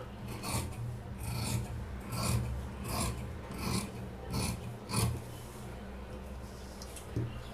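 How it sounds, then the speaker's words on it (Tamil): Scissors cut through blouse fabric on a tailoring table in a steady series of about eight close, rasping snips, each a short crunchy swish, with no one speaking. "இப்போ நம்ம கட் பண்ணிக்கலாம்"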